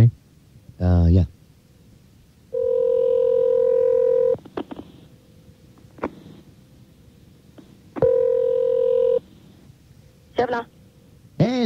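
Touch-tone telephone dialing on a radio-studio phone line: steady dial-tone stretches and short keypad beeps, fairly loud and close, with brief clicks between them.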